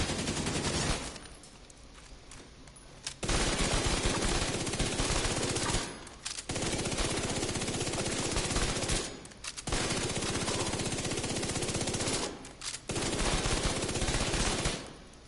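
Automatic gunfire from a weapon in the video game The Division rattles in long, loud, sustained bursts separated by short gaps, with no talk over the shooting.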